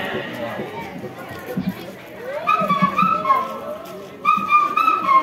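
A human voice imitates the call of the keteki bird at a Rongali Bihu gathering in Assam, giving two stretches of high, wavering whistled notes after a murmur of background voices.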